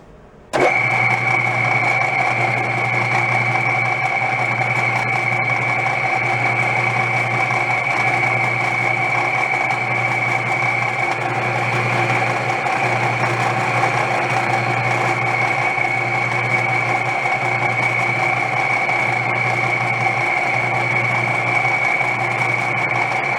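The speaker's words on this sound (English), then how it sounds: "We'll slice off a couple of different slugs and test fit them, see how we like them. I haven't used this lathe in a while." A metal lathe runs at a steady, loud pace, cutting slugs for a bike engine's drive to the back wheel. The hum starts abruptly and drones continuously with a low pulsing undertone, without speech.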